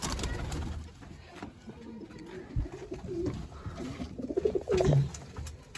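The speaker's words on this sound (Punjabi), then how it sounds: "ਹਾਂ ਵਾਰਾ ਫੜੀ ਬਹੁਤ ਚੰਗੀ ਕਬੂਤਰੀ" Pigeons coo in a low, repeated rumble, joined by a prized female pigeon of a Chinese breed kept by a fancier; several close coos rise toward the end over faint background noise.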